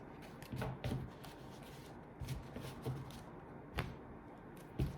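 Tarot cards shuffled and dealt for a five-card spread, with soft riffling bursts and crisp slaps as cards land, irregular and close, with no talk.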